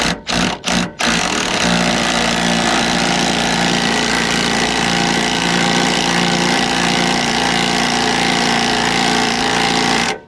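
Cordless power drill with a socket driving a motorhome's jack while a tyre is changed. Three quick trigger taps give short bursts, then a loud, steady motor whine and mechanical grind runs continuously for about nine seconds before stopping abruptly.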